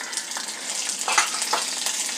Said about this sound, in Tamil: கடுகு வெடிட்டோம்